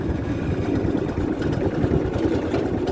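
A 420cc Predator go-kart engine held at full throttle while it keeps trying to die, giving a steady, close, rumbling drone without pauses.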